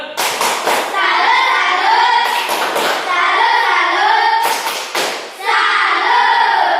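A classroom of students claps a rhythmic salute clap in three loud bursts of rapid, sharp hand claps, each burst trailing into a brief pause, close and filling the room.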